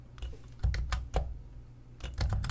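Computer keyboard and mouse clicks during DaVinci Resolve curve editing: a scatter of sharp, close clicks and taps in irregular bursts, a pause in the middle, then another quick cluster near the end.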